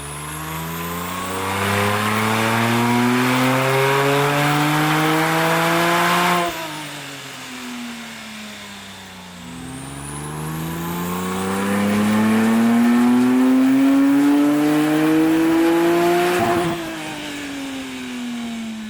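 Porsche 993 Gunther Werks turbo flat-six revving hard on a chassis dyno, two long loud pulls with rising pitch, each climbing steadily then cutting off, with a brief lull between runs and no talk.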